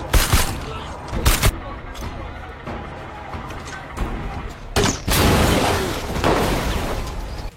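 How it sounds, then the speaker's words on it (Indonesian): Gunfire in a shootout on a bridge in a 2025 action film: sharp bursts stand out at the start and near the five-second mark, with sustained loud noise after that, and talk runs underneath. "dia pun ketahuan sama petugas dan baku tembak pun tidak bisa dihindarkan lagi"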